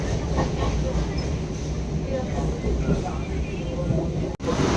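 Train ride on the return from Naihati: a steady broadband rumble and rattle of carriage and track, fairly loud and continuous, with a brief dropout near the end and faint background voices.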